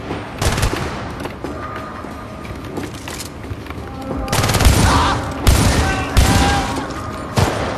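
Bursts of gunfire ring out in the video game Syndicate, several loud rapid volleys and single cracks spread across the stretch with faint talk beneath.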